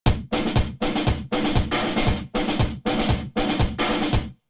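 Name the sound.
Gypsy percussion through harsh gate, distortion and saturation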